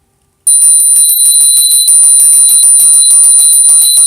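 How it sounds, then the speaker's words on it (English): A small hand bell is rung repeatedly in a quiet room to clear energy before a tarot reading, giving a bright, close, ringing chime with rapid repeated strikes that sustain throughout. "So I like to ring the bell."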